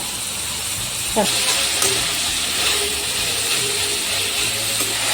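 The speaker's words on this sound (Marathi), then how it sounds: "हा फ्राय करून घेते कांदा" Onion frying in a pan for chicken biryani gives a steady, close sizzling hiss throughout, with a few brief metallic clicks and scrapes.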